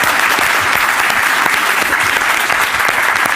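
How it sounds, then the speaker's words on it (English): Steady, dense applause from an audience thanking student panelists at the close of a panel on religion and morality, continuous clapping throughout with no talk over it. "So I want to hear a round of applause for Allah, Sam, and Chris, our great panelis"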